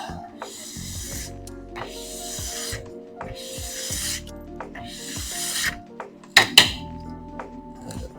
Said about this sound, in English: you can see all that wax just coming right off